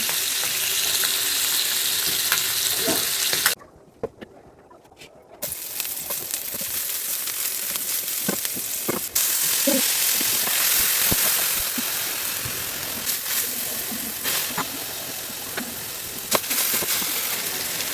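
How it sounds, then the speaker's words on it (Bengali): Hilsa fish masala with onion and spices fries in a pan with a loud, continuous sizzle that drops away briefly before surging back and running steadily to the end. "পেঁয়াজ ভাজা এবং মশলার মধ্যে আমি একটু পানি দিয়ে ভালো করে কষিয়ে নেব"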